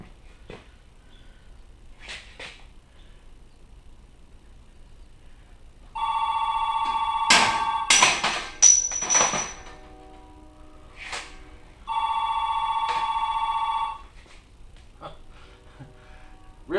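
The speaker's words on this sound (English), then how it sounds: "you can hear the phone ringing" A telephone rings in a workshop where bearings are being removed, two long electronic ringing bursts a few seconds apart, loud and clear, with some knocks and clatter in between.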